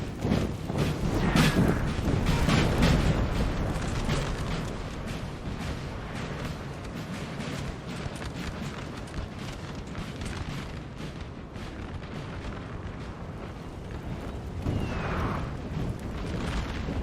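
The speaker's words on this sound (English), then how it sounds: "Austria takes some pretty heavy losses from artillery over time" Sustained, rumbling battle din from a Napoleon: Total War 4v4 match, with booming artillery fire from the Austrian and opposing lines rolling continuously at moderate loudness, a denser burst of blasts near the start.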